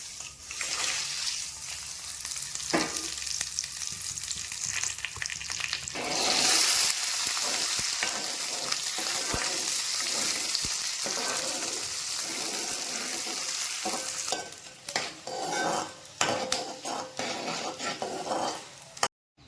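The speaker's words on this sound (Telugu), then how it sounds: "ఎండుమిర్చి వేపాను" Dry red chillies frying in oil in a pan: a loud, hissing sizzle that swells partway through, with occasional utensil clinks and scrapes and a faint murmur in the background.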